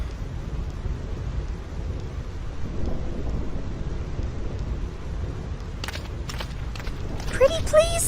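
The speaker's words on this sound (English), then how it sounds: "This storm never stops." A relentless thunderstorm in the video game Final Fantasy X, with a dense roar of rain and wind rumbling throughout, then a few sharp crackling bursts near the end, no voices.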